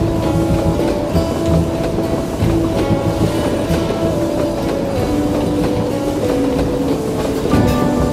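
Train running, heard from inside an air-conditioned coach on a rail journey: steady loud rumble with a low hum and faint rhythmic clatter of wheels, continuous throughout with no talk.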